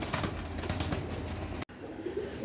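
White Golden pigeons at a breeder's loft give a steady, close stream of soft cooing with fluttering wings throughout, broken by a brief drop-out partway through, with no talking.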